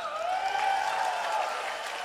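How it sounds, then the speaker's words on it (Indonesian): A crowd claps at an outdoor sermon on Soepardi field in Magelang, a continuous, moderately loud patter of many hands with a drawn-out voice rising briefly above it. "Karena Anda tepuk, maka tepuk ini akan menjadi"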